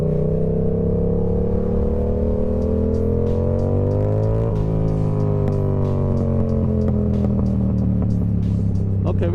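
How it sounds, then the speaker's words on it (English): A Yamaha R7 motorcycle with an ECU tune revs hard, its loud, close engine note climbing and dipping through a gear change, with scattered crackling exhaust pops over the steady roar. "I'm gonna try my best to see if I can get some pops out of this thing"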